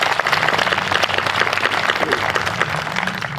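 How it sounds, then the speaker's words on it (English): An audience applauds a cadet color party at a small-town Canada 150 opening ceremony in Watrous, Saskatchewan: steady, dense clapping from many hands, sustained and fairly loud throughout with no pauses. "We'll clap for them."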